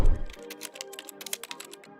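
Rapid, close keystrokes on a computer keyboard, a quick run of light clicks lasting about two seconds after a soft opening thump.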